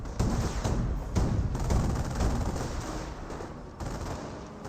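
Massed rifle and machine gun fire rattles across a World War II battlefield in Company of Heroes as Panzer Grenadiers come under attack, a dense continuous crackle with dull thuds, steady and moderately loud.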